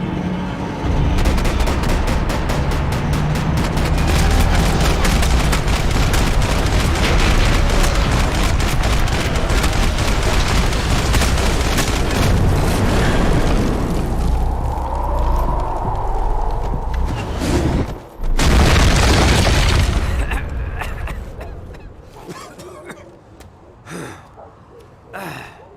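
Gunfire and explosions in the shooter game Max Payne 3: a dense, loud barrage of rapid shots and blasts for most of the stretch, easing into scattered bursts near the end.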